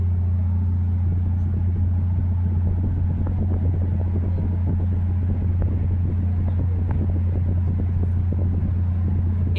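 Cars and trucks on the I-4 highway, heard from a dinner river cruise boat, blend into a continuous low rumble with a steady engine drone beneath it. The traffic stays constant and fairly loud, and no one talks.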